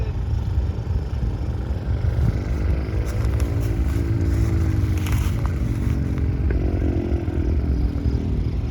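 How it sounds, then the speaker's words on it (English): Twin-cylinder racing motorcycles of 800cc and under idle at the start of a race at Road America's Canada Corner, a steady loud low rumble that carries throughout, with faint higher engine notes rising and falling. "These are 800cc and under twin cylinder engines. And they're ready to start."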